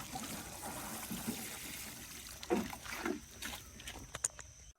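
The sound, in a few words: watering plants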